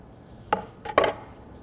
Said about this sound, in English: Brisket's all rested, time to slice it up and get a taste